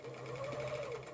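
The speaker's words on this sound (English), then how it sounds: "So I increase the differential feed on my sewing machine, which ever so slightly gathers the fabric as you sew it" A sewing machine with increased differential feed stitches a dress hem, producing a quiet, steady mechanical hum with a faint rapid needle rhythm throughout.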